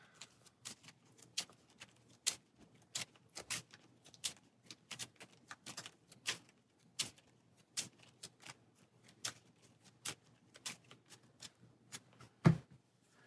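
A deck of cards in the Marvel Champions card game is shuffled with a quiet series of crisp, irregular clicks and snaps spread over several seconds, faint and close, with no talking.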